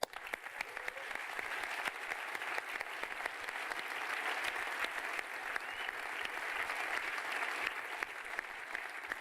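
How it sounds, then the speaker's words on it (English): An audience claps steadily for several seconds, a dense, even wash of applause that holds its level throughout with no voices rising above it. "give yourselves a round of applause"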